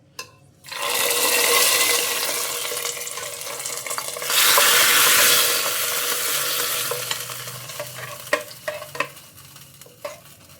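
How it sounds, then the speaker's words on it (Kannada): Mustard seeds and curry leaves hit hot oil for a vegetable kurma tempering, bursting into a loud, close sizzle that surges midway, then fades into scattered pops and clicks. "ಈಗ ಇದಕ್ಕೆ ಒಂದು ಒಗ್ಗರಣೆ ಕೊಟ್ಬಿಡೋಣ."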